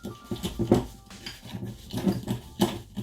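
A fork working butter and sugar together in a bowl for a galette des rois: irregular clinks and scrapes of metal against the dish, close up, coming in short uneven bursts with brief pauses, no voices.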